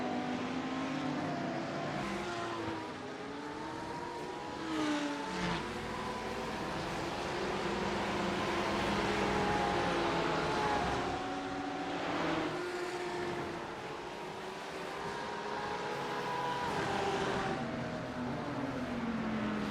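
Several race cars lapping Laguna Seca in close traffic, engines droning and shifting pitch as they pass, a steady roar of multiple motors at moderate distance with no voices.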